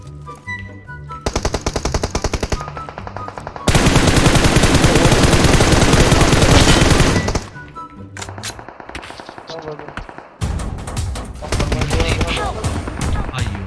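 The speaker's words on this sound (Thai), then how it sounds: "ใครยิงพี่มานี่" Dense automatic gunfire rattles through PUBG Mobile combat, with long sustained bursts and several louder, denser volleys, while voices chatter over the shooting.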